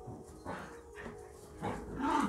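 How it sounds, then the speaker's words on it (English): Pet dogs bark and yip a few times at moderate distance, short bursts spaced irregularly over steady room noise. "Before my dogs go crazy"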